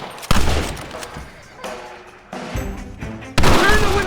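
Gunfire from the Western video game Red Dead Redemption Remastered, loud close bursts of shots and volleys in separate clusters, with game voices shouting between them.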